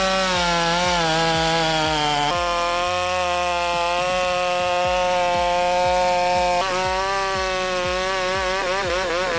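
An upgraded Stihl MS660 chainsaw cuts through big oak wood, its engine roaring loud and close with a steady high whine and repeated dips in pitch as the chain bogs into the log, no talk over it.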